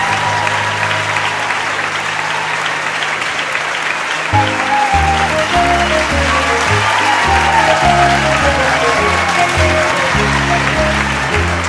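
An audience applauds at the end of a pop opera performance. Full, steady clapping runs throughout, with low instrumental chords entering beneath it partway through.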